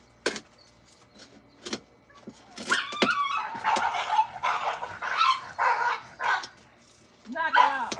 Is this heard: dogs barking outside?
yes